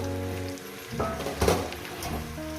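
Fish head cooked slowly with tomato, coriander leaves and vegetables in a pan gives a steady, close sizzle and crackle of frying throughout, swelling briefly in the middle with a soft stir, with no talk over it.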